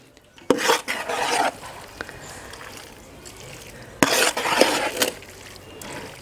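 Masala mixture being stirred in a pot, two bursts of loud close scraping and rasping of a utensil against the vessel, separated by a quieter stretch.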